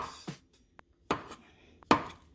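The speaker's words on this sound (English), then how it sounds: "For the sausages, I'm just going to slice them up." A knife slices sausages on a cutting board for fried cabbage, giving three crisp, separate chops with a few faint clicks between them, close and without talk.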